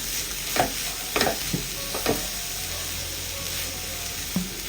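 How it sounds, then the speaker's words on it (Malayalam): Boiled potato is stirred into a frying mixture in a pan, with repeated scraping and clanking strokes of a spatula over a steady sizzle, close and fairly loud. "നന്നായിട്ടൊന്ന് ഇളക്കി കൊടുക്കുക."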